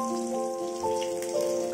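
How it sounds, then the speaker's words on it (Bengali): Catla fish pieces frying in mustard oil in a wok, a steady close hiss and crackle of sizzling that runs through without any voices. "মাছগুলোর একটা সাইড ফ্রাই হয়ে গেছে, এবারে ঠিক একইভাবে আরও একটা সাইড ফ্রাই করে নেব।"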